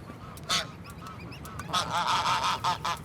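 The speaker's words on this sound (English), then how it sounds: "The gander gets restless." A restless gander honks loudly nearby as geese with goslings gather in the city, the calls coming in several separate bursts over a low outdoor background.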